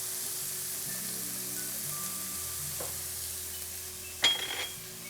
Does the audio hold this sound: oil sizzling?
yes